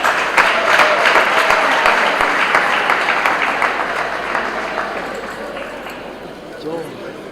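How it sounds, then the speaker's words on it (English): Audience at a schools debate championship final clapping for the runners-up, a loud, dense round of applause that gradually tapers off, with speech mixed in. "A round of applause for the runners-up."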